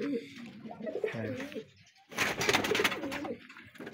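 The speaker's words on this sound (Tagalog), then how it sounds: "Gandang kalapati." Pigeons cooing softly nearby, low throaty coos in a short series, then a burst of wing flapping or rustling before the cooing resumes.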